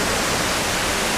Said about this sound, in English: this little waterfall, up into the big waterfall being my focal point